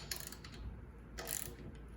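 A cam lever on a Bora PM-1000 mobile base is turned looser, giving a faint, close run of small mechanical clicks and ratcheting ticks over about two seconds, with no speech.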